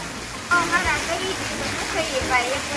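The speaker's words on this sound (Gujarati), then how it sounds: "વરસાદ બહુ છે" Heavy rain pours down in a village as a loud, steady, close roar of falling water, with people talking over it throughout.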